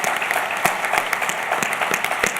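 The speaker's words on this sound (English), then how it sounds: "I'd like to give them a round of applause" Applause from a conference general-session audience thanking panelists, dense clapping with distinct sharp claps standing out, close and steady throughout.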